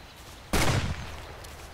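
A single sharp Glock pistol shot in a video game, a loud, abrupt burst with a short fading tail, alone without voices.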